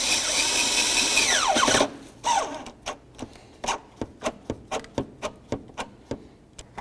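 A power drill tightens a clamp on a rear transmission mount of a 2008–2012 Chevy Malibu, with a whining run that winds down, then a series of evenly spaced short impact bursts, close and loud.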